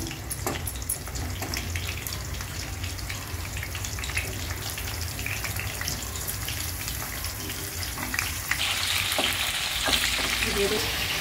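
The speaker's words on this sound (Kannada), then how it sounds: "ಗೋಲ್ಡನ್ ಬ್ರೌನ್ ಬರೋವರೆಗೂ ಸಿಮ್ಮಲ್ಲಿ ನಾವು ಕೈ ಆಡಿಸ್ತಾ ಇರಬೇಕು." Stuffed bitter gourd masala frying in oil on a low flame while being stirred, a steady close sizzle with scraping stir strokes throughout, growing a little louder and brighter toward the end.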